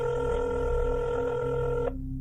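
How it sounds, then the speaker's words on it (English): A telephone line tone, steady and fairly loud with harmonic layers, cuts off abruptly near the end as a phone is picked up and dialed. "he picked up the phone to make the hardest call of all"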